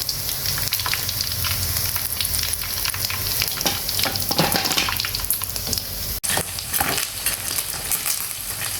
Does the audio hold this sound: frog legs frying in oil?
yes